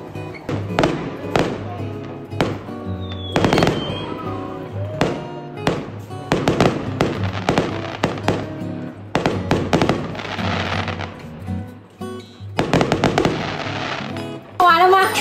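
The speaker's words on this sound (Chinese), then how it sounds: "结婚晚上都要放烟花" Fireworks crack and bang in rapid, irregular bursts throughout a village wedding night in rural China, loud and close, with people talking in between the explosions.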